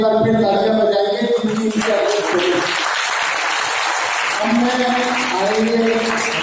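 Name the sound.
audience applause at a Ramlila event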